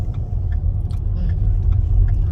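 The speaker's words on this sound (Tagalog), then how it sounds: "Ang sikip kasi ang dami mga tricycle." Dense street traffic in Tabunok, Talisay, Cebu, with many tricycles crowding a narrow road: a steady, loud low engine rumble of nearby vehicles, with faint intermittent clinks and motor whines on top.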